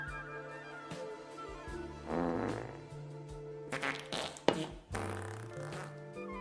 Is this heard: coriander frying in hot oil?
no